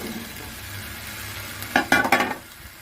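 Rice kofta with onion, garlic, pepper and tomato goes into a hot pan, a quiet sizzle that flares into a few sharp crackling bursts near the end.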